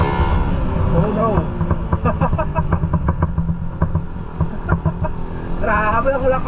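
A Suzuki Raider 150 motorcycle on its stock carburetor revs up close, loud and raspy. The engine pulses rapidly and the revs climb and fall repeatedly, with a voice briefly heard over it.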